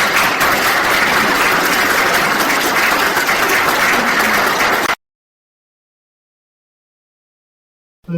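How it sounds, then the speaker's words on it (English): A church congregation breaks into dense, steady applause that fills the room for about five seconds, then cuts abruptly to silence before a faint sound returns at the very end. "Let's give her a round of applause."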